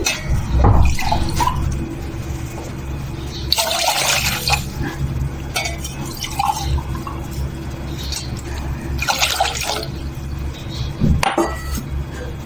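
Water splashes and trickles into a pot for sugar syrup, with intermittent gushes, fairly close, over a steady low background hum.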